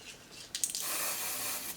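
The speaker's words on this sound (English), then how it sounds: "I only really spray it in the hairline area." A brief mechanical click, then a sustained aerosol spray hisses steadily for about a second onto a lace wig hairline, close and fairly soft.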